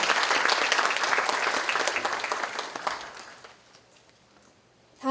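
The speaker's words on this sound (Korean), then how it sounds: "교육상을 수상하신 분들께 다시 한번 축하의 박수 부탁드립니다." Congratulatory applause from the audience at a university founding anniversary ceremony honoring teaching award recipients, dense and sustained at first, then thinning and fading away over a few seconds.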